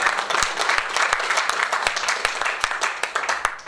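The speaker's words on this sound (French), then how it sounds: "Je pense qu'on peut l'applaudir" A small audience at a mutual-aid group gathering bursts into lively applause, with brisk, continuous clapping close by and a faint voice underneath.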